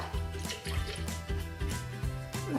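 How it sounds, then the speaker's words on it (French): Roughly 200 ml of soy milk poured into a blender jar for a vegan banana-chocolate smoothie, giving a steady close gurgling, splashing flow with rhythmic bubbling pulses. "Je vais commencer par verser environ 200 ml de lait de soja"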